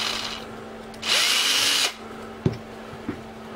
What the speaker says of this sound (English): I like to take my drill bit and just run it through these holes here.